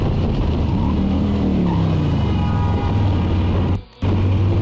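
Car braking hard and skidding on a road, a loud engine and tire-scrub rumble with squealing tones, continuous until a brief cut near the end.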